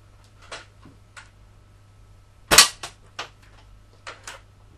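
Air rifle pellets striking plate steel greaves, heard as a handful of sharp separate cracks and pings spread over a few seconds, one much louder close impact standing out against a quiet background hum.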